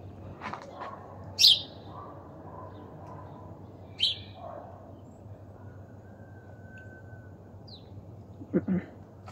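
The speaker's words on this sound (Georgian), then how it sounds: "აუ რა ლამაზი ჩიტი ხარ შენ." A small bird gives a few sharp, brief chirps spaced several seconds apart, fairly close, over low outdoor background noise during a morning jog.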